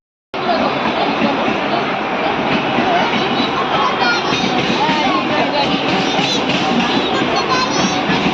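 A train rumbles steadily at a railway station in Ratnagiri, a loud continuous roar with rattling carriages that starts abruptly and holds throughout, with voices mixed in.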